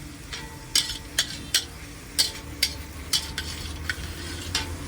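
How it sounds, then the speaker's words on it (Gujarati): Vegetables for a street-style mag pulav roasting and stirred in a pan over a low flame, with a steady soft sizzle broken by repeated sharp scrapes and clinks of a spoon against the pan. "હવે એને ધીમા તાપેથી શેકીશું આપણે."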